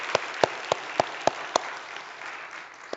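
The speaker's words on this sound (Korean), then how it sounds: "함께 박수로 함께 격려 한번 하시겠습니다" Church congregation clapping together in a sanctuary, a burst of applause with several sharp, evenly spaced claps standing out, then fading into a softer murmur of clapping near the end.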